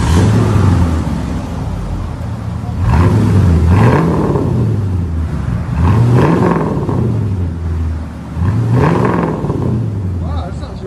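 Straight-piped V8 Ford Crown Victoria LTD, loud, close engine repeatedly revved in three or four rising-and-falling surges over a deep rumbling idle.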